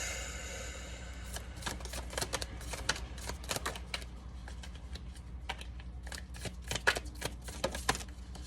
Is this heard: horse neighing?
no